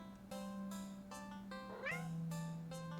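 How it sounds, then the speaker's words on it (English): A cat meowing in a short series of close, clear calls, some rising and bending in pitch, over a steady low background hum. "the cat meowing at you"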